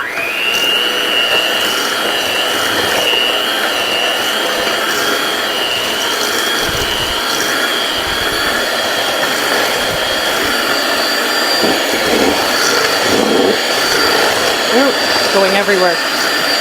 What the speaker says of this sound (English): Let's try the new mixer.